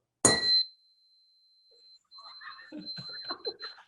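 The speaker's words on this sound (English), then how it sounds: "You need to bang the gong" A gong struck once with a sharp attack, its bright, high ring hanging for about two seconds and fading into quiet before people begin talking.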